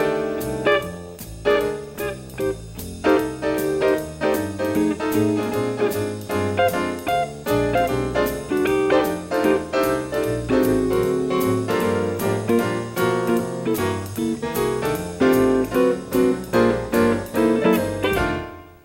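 Jazz rhythm section with piano and guitar comping at the same time and clashing chaotically, heard as dense, busy chords over a steady four-to-the-bar pulse that keeps on without pause.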